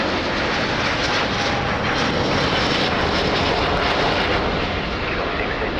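An airplane landing or taking off at Lisbon Airport gives a loud, steady, broadband engine roar that holds without a break from start to finish.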